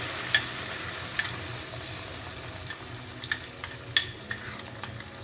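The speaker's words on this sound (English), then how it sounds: "Just saute this for a couple of minutes." Ground coconut, onion, ginger, garlic and pepper paste sautéing in a pan, a steady low sizzle with occasional stirring scrapes and clicks, close and moderate, no talking.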